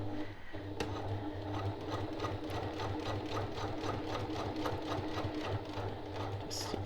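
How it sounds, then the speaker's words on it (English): A sewing machine runs steadily at about 2.4 stitch length, stitching a label onto a fabric zipper pouch, its rapid even needle clatter close and continuous throughout. "Just stitch around the edges of my label."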